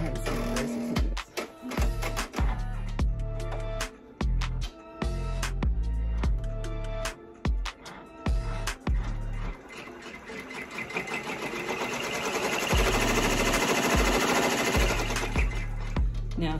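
An embroidery machine stitching out an appliqué design on a baby gown or beanie, a close, steady mechanical chatter with rapid rhythmic needle strokes, briefly pausing and restarting before settling into a continuous hum.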